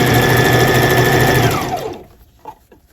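A sewing machine stitches scrunchie fabric in a fast, steady whir up close, then slows with a falling pitch and stops, leaving a few soft handling sounds.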